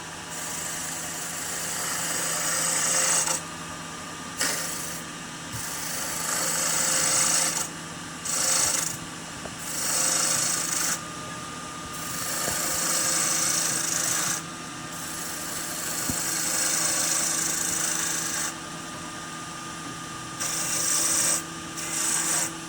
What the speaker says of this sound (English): I typically use a 1/4 inch bowl gouge to do most of the shaping.